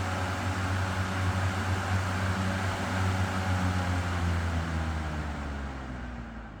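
EGO FN1000 56-volt 10-inch misting fan running on turbo setting, a steady broadband whoosh of moving air with a low motor hum, constant and close, tapering slightly at the end.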